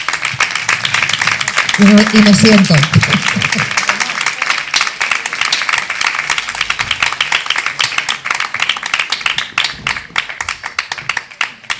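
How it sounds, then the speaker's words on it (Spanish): An audience claps through a campaign presentation on masculinities, a steady patter of hands that fades and thins toward the end while someone speaks briefly over it. "Un aplauso."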